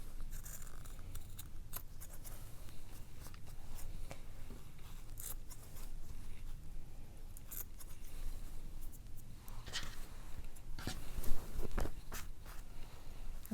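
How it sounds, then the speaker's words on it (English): Scissors snip away excess fabric from a quilt, producing soft, faint repeated cutting and rustling sounds at close range in a quiet room, with no talking. "I just want to trim a little bit of the"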